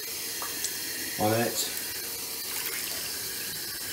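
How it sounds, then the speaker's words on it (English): Cold water runs steadily from a tap into a sink as a telescope mirror is soaked, a continuous hiss beneath a brief spoken phrase. "The first thing we're going to do, just from the cold water tap, is just to pour some water"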